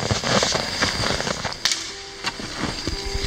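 A gunshot aimed at a target in a snowy forest, one of several sharp, loud cracks and pops in quick succession, close by, with no speech.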